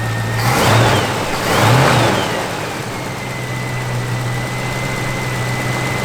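A 1969 Pontiac Firebird engine hums steadily nearby, swelling twice in brief revs before settling into an even, smooth idle.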